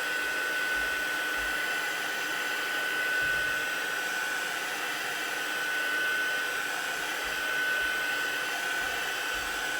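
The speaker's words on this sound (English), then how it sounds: "we're going to heat that until we've got that fairly dry" A heat tool drying watercolour ink on a stamped card blows with a steady, loud, continuous whir and hiss that holds at an even level throughout, close by and alone.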